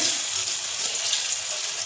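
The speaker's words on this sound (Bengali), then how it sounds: "আবার রান্নাঘরে চলে এসেছি বেগুন ভাজা করার জন্য" Steady, loud sizzling of eggplant slices frying in a hot pan, a continuous close hiss with no pauses.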